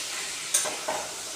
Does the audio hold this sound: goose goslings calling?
no